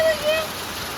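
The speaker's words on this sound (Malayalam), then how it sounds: "എന്തൊരു മഴ എന്റെ പൊന്നെ" Heavy rain falls steadily as a dense, even hiss close by, with a voice talking briefly over it near the start.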